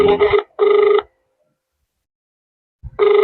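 Phone ringing on an outgoing call to a seller, two short electronic ring bursts close together, a long silent pause, then another ring beginning, clean and close.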